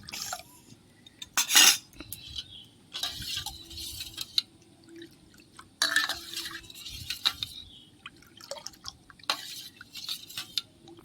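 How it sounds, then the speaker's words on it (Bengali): A cornflour and water mixture is poured into a watermelon lolly mix, producing a series of close clinks, scrapes and brief liquid splashes from utensils against a bowl, separated by quiet pauses. "আমি এবার এটা এর মধ্যে ঢেলে দিচ্ছি"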